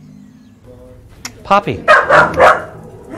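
A Schnauzer and wire-haired terrier mix at an animal shelter lets out a few short, close barks after a person briefly speaks.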